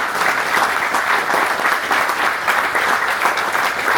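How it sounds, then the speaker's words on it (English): An audience gives a steady round of applause for a racing team at Daytona, a thick, even, continuous clapping that stays loud and close throughout. "big round of applause to them"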